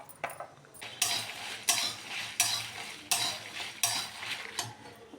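Garlic tossed into a hot pan after the stove is switched off, sizzling while a utensil scrapes and stirs in about six regular strokes, close and moderately loud with no talk.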